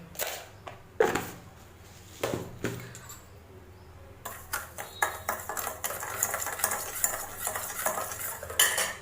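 A spoon clinks and scrapes against a glass while sugar is stirred into lemon water, starting with a few sharp taps and then turning into a quicker, continuous run of ringing metallic stirring close by.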